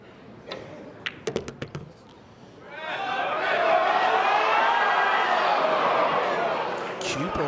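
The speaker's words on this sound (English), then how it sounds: "That got the crowd excited." A Mosconi Cup pool crowd at Team USA versus Team Europe erupts into loud cheering and chatter after a few sharp ball clicks, with a commentator talking over the roar.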